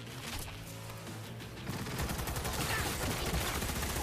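Enemies fire guns in Cyberpunk 2077, a rapid fusillade of shots that grows louder and denser halfway through, with a faint voice underneath.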